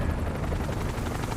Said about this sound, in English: Helicopters typically mean Shinra.